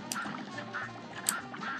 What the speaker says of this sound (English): you just gotta you gotta respect those ducks.